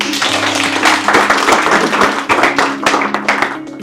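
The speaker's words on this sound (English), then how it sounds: "Clap for this guy." An audience claps steadily for several seconds, a dense patter of many hands at a close, fairly loud level.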